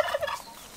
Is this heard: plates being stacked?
no